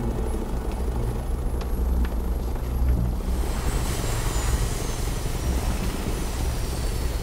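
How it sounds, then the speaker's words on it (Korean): A helicopter approaching, heard as a steady low rotor and engine rumble that grows fuller and louder over the span, with a faint high whine above it and no voices. "그때 웬 헬기 소리가 이들의 귀에 들려오게 되는데"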